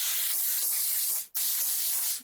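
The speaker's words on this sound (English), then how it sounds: "Put them on parchment, spray it with some avocado oil." Avocado oil is sprayed from a can onto parchment on a cookie sheet in two long, steady hissing bursts with a brief break between them, close and loud, with no talking.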